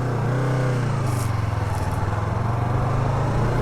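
A Yamaha R25 motorcycle on its stock exhaust idles and revs steadily close by, a continuous loud engine drone with a slight throb that stays level throughout, with no voices.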